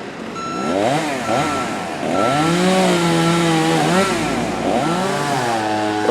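A chainsaw cuts a tree section outdoors, its engine whining and swooping up and down repeatedly as it revs through the wood, fairly close and continuous for several seconds.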